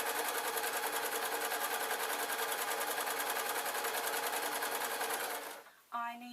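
Sewing machine stitching trouser lining, a steady fast needle rattle running continuously for over five seconds before stopping abruptly, followed by a brief faint clatter.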